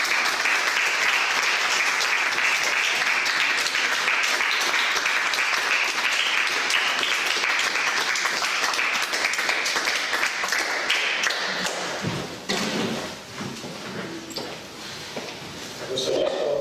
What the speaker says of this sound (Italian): la festosità del suono di tante mani che battono una contro l'altra nel gesto collettivo e pagano dell'applauso